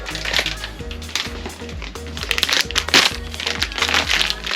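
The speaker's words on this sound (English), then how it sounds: "if we just get this out of the packaging" A Vespa PX headlight surround being pulled out of its packaging, with close, loud crinkling and crackling of plastic wrap and bursts of rustling that continue throughout.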